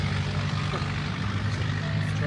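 Straight-piped Chevy Blazer with its catalytic converter missing rumbling past, a loud, rough, continuous low engine roar close by, with a voice talking over it.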